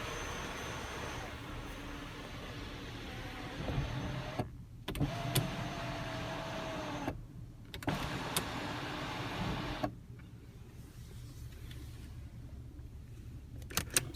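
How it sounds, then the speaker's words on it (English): The power sunroof motor of a 2016 Audi A7 Prestige S Line whirs steadily inside the cabin, stopping and restarting in several runs as the roof opens and tilts, with small clicks at each stop. "you have the one-touch open and close and tilt sunroof"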